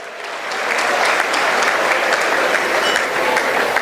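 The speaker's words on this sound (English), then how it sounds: "a round of applause for everybody here tonight" A gala audience bursts into applause, rising quickly within the first half second into a loud, dense wall of clapping that holds steady to the end.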